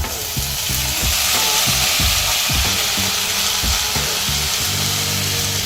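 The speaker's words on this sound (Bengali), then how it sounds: "সমস্ত সবজিগুলো এর মধ্যে দিয়ে দিচ্ছি" Chopped vegetables for fried rice sizzle loudly in a pan over a medium flame, with a dense hiss under rhythmic scraping and stirring strokes close by. No voices are heard.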